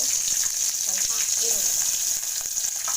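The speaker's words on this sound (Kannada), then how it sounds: "ಈರುಳ್ಳಿ ಹಾಕ್ಕೊಂಡು ಸ್ವಲ್ಪ ಹೊಂಬಣ್ಣ ಬರಲಿ" Onions frying in a pan toward golden, a loud continuous bright sizzle with faint spatter, alone and steady throughout.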